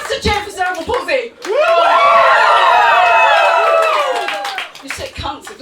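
A comedy show audience cheers and applauds for a few seconds, loud and close, after a comedian's spoken lines. Talking returns as the noise dies away.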